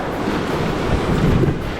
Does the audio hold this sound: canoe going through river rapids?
yes